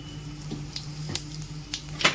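Cumin seeds crackle in hot oil in a wok, a steady soft sizzle close by with a few sharper pops and spits scattered across it, and no talking.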